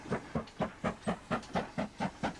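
A steam train pulls away on a West Country Great Western branch line, its exhaust chuffing in a steady, evenly spaced beat of about four puffs a second, close and clear with a hissy edge.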